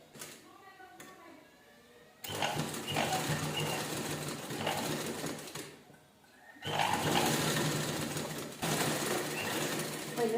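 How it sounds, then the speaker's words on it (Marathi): A sewing machine stitches a new pocket onto fabric in long steady whirring runs with short pauses, while someone talks quietly in the background. "ह्याच्यावर आपण स्टिच करून घेऊया व्यवस्थित"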